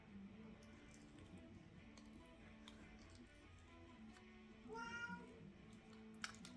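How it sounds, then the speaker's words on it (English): A small cat meows at a door indoors, one short faint cry partway through over a low steady room hum. "I have a little kitty at the door hollering"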